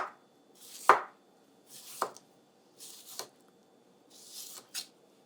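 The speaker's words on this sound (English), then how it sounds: "You can slice your strawberries in 2 different ways." Knife slicing strawberries for a healthy dessert, about five separate crisp cuts spaced roughly a second apart, each with a sharp tap of the blade on the board, close and clear with no talking.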